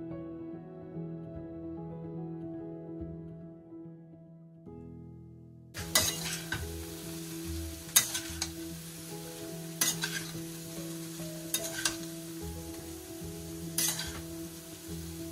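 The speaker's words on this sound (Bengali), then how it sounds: "একদিকে শুভশ্রী বানিয়ে নিচ্ছে ফ্রাইড রাইস" Fried rice is stir-fried in a pan: a few seconds of quiet low hum give way to a sudden sizzle, followed by a series of sharp scrapes and knocks of a spatula against the pan at irregular intervals.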